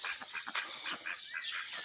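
Ducks on a farm quack in a quick, busy chorus, several birds calling over one another close by.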